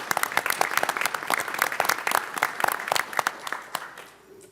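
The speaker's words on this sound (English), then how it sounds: "Let's give them a round of applause" Audience applause for honor guard deputies at a commission meeting, a lively crowd clapping with distinct sharp hand claps close by, fading gradually at the end.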